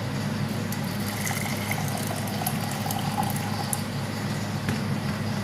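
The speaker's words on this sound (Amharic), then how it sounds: "እዚህ ጋር የፈላ ውሃ አለኝ።" Boiling water pours steadily over cinnamon, cloves and peppercorns, a continuous even rush of liquid at moderate loudness with no voices.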